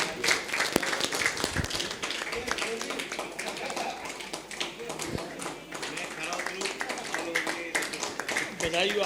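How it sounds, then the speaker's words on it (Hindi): An audience claps in welcome for a newly appointed IT cell head at a national executive formation meeting, a steady patter of applause that runs throughout with talking mixed in. "एक बार सभी उनको तालियों के माध्यम से स्वागत करेंगे।"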